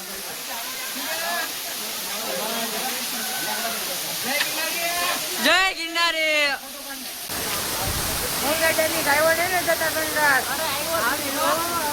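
The Jatashankar waterfall roars in a steady, loud rush during the rainy season while people talk and call out over it.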